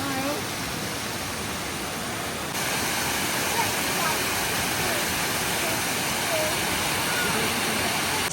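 Close, loud and steady rush of a waterfall in Wales, a continuous broadband roar that holds constant throughout.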